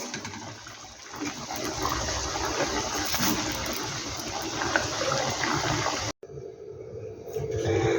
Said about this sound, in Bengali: দেখো এই কটা আমি একভাবেই ভেজে নেব এগুলো একটু স্লিপ কাটে তো তাই তেলটা ছিটে আসে